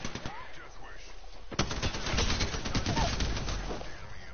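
Rapid bursts of video game gunfire crackle through the whole stretch, growing denser and louder after a sharp report partway in, with people talking over the shooting.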